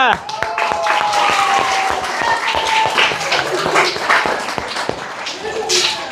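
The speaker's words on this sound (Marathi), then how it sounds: "चला पुढे पुढे लगे पटापट व्हेरी गुड टाळ्या" Children clap at a school event with their hands, sharp scattered claps over a busy background of voices and movement, fairly loud and close, with people talking throughout.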